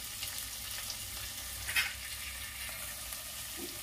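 Quiet, steady sizzle of ginger, garlic and dried red chillies frying with bay leaf and onion in a pan, with a brief stir clink midway, faint and continuous without voices.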